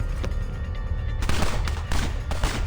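A sudden burst of gunfire in the video game Reverse 1999, loud rapid shots crackling over a steady low rumble, with sharper cracks striking at intervals and no talk.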